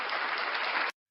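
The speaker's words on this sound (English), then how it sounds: "a round of applause for our janitor, Rube Maximilian." A studio audience applauds for the show's janitor, a steady, dense round of clapping at even loudness that cuts off abruptly after about a second.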